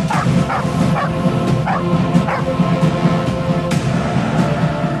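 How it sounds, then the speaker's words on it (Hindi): A pack of stray dogs in Punjab barking, yipping and whimpering in CCTV footage of an attack, repeated sharp yelps in irregular bursts over a steady noisy background, fairly close and loud. "आवारा कुत्तों ने 12 साल के बच्चे पर खौफनाक हमला किया और 7वीं जमात के मुबश्शिर को भंबोड़ डाला।"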